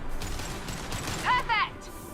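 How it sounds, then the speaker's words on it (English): A concussive shot fires amid a Mass Effect Legendary Edition battle, a brief blast with a ringing tail rising over continuous rumbling combat noise, with a voice speaking nearby. "Firing concussive shot!"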